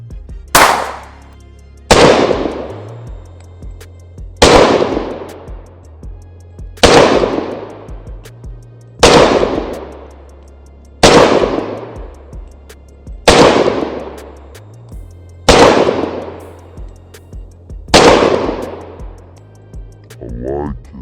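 A Sig Sauer 365 Fuse pistol fires nine sharp, loud shots in a steady rhythm about two seconds apart, each crack followed by a short decaying echo, with no voices between them.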